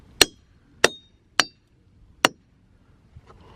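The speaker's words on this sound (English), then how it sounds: "You can kind of hear the initial clack when the hammer hits echo, and then there's just a ring that stays." A hammer strikes rocks outdoors on a rock-hunting trip: four crisp, evenly paced clacks, each with a brief bright ring. Softer knocks follow at the end, close up with no talking.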